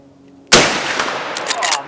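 A single loud Marlin 45-70 lever-action rifle shot cracks out after a quiet lead-in, its blast rolling into a long echoing decay with faint rustling as it fades.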